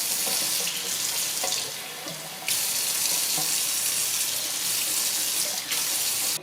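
Hot water runs from a kitchen tap into a sink in a loud, continuous rushing stream, the flow surging stronger partway through, with no one talking.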